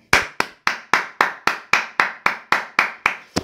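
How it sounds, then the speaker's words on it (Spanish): A single person's clapping in a slow, even rhythm, about a dozen sharp claps, close and clear with no talk. "Un aplauso."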